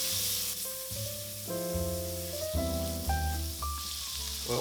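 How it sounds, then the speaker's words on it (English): Butter melts and sizzles in a heavy-bottomed pan, a soft, steady frying hiss under louder background music with changing chords. "we're going to melt our butter in a heavy bottom pan again"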